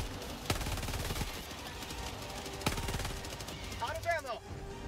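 Gunfire in the video game Helldivers 2, with a few sharp distant shots and rattling bursts over a steady busy background, plus a brief whining electronic sweep near the end.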